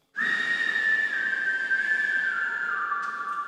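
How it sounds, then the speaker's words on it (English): A dreamy whistle recorded for a dance music production holds one clear, sustained tone for about three seconds, close and loud, gliding down slightly in pitch partway through, with no talking. "So that's the whistle."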